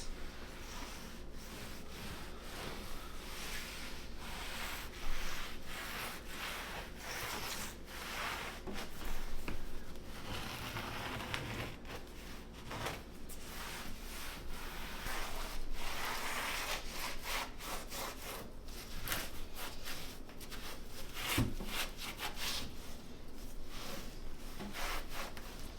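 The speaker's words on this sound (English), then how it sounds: "So yeah, you just rub it in, and you don't want to leave any puddles." Sealer being rubbed by hand into a freshly redone concrete kitchen countertop, a steady scrubbing, wiping friction that continues without pause, close and moderately loud, with no talking.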